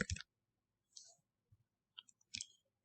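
A computer mouse clicking in a quiet room, giving several sharp, close, separate clicks spread unevenly, with short silent gaps between them.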